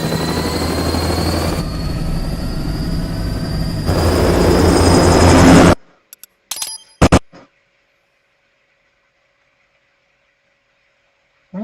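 Helicopter taking off in the PS3 game Metal Gear Rising Revengeance: a loud, rising rotor and engine roar for about six seconds that cuts off abruptly, followed by a few sharp clicks and metallic clinks, then silence.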